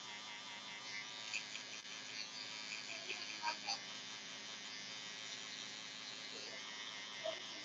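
Wahl Senior electric hair clippers with the lever open buzzing steadily while cutting hair during a mid fade, a close continuous motor hum with small crackles as the blades pass through hair.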